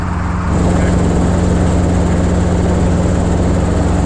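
A helicopter lifts off from a pad at an airport with a loud, steady engine and rotor roar, heard up close from inside the aircraft, its pitch and intensity holding constant.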